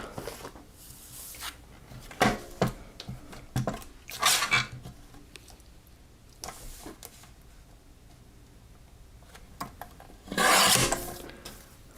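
A craft mat being trimmed, with scattered close rasping cuts and rubbing scrapes, some quick clicks, and a louder final rasping stroke near the end.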